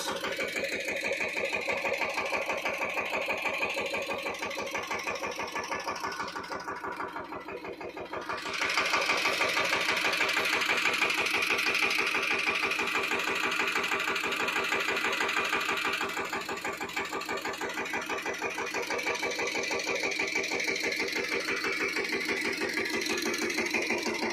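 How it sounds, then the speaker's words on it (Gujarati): A seeder tractor engine runs in a cumin field, a steady mid-pitched drone with a rapid mechanical chatter. It dips briefly before surging back louder and then holds on, close and continuous, with no voices. "આ છે આપણું સીડર ટ્રેક્ટર, આમાં વાવેલ છે જીરું"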